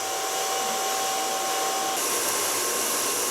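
Hair dryer blowing steadily and loudly while short hair is blow-dried from the neckline toward the front, with a continuous airy roar that shifts slightly in tone partway through.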